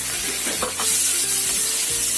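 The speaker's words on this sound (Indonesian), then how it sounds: "Tambahkan semua bumbunya yang sudah kita buat tadi, bawang putih, jahe, cabai, dan daun bawang." Garlic, ginger, chili and scallion sizzle loudly in a hot pan, with a steady crackling fry and a few stirring scrapes, close up and without talking.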